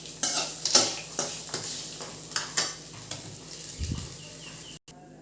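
Okra fry with peanuts stirred in a pan, giving repeated scraping strokes of a spatula against the metal over a soft steady sizzle, close and moderately loud, with no voices.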